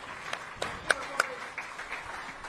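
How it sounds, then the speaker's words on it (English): Faint, scattered clapping from a small audience at a fishing tournament weigh-in on Lake Eufaula, Oklahoma, with a handful of sharp individual claps over a low background murmur. "big round of applause for them"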